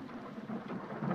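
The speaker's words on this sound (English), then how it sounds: "Thunder." Thunder rolling during a rainstorm in the 1981 film An American Werewolf in London, a low rumble under a steady wash of rain that swells slightly toward the end, with no one speaking.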